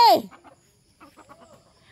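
A loud, close squawking cluck from a backyard chicken at the start, followed by softer, scattered clucks and faint calls from other chickens in the background.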